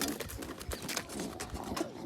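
Pigeons coo in a village loft where a young chick has hatched, low murmuring calls repeating steadily over a busy, continuous background with occasional rustling and wing movement.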